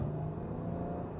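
An Audi A6 55 TFSI pulling hard under acceleration, a steady deep engine rumble and whir heard from inside the cabin, loud and continuous with no talking.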